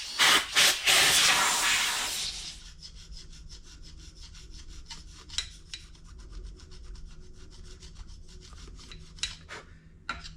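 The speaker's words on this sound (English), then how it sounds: "These carbide gasket scrapers are dynamite." A carbide gasket scraper works gasket material off a part from a rare Kawasaki F11 engine under restoration, opening with a few loud hissing scrapes, then settling into quieter rapid rasping strokes with occasional sharper scratches.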